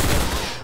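Gunfire erupts in the Roblox game Arsenal as a brief, loud, dense burst of rapid shots that lasts well under a second.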